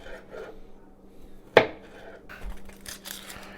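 A knife strikes through onion onto a cutting board in a home kitchen, giving one sharp, close chop followed by softer scraping and rustling, with no talking.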